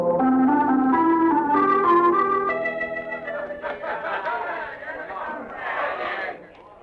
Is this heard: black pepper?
no